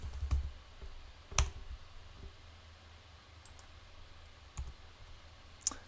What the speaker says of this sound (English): and we type in Astra here.